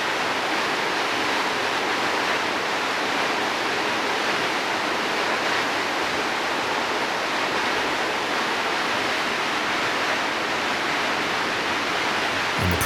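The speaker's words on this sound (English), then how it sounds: "the water did not tumble down in just a single spot, but rather formed a curtain of dancing water droplets" A waterfall spreading into a curtain of droplets in Slovenia, giving a dense, continuous broadband rush of falling water, steady and loud with no breaks.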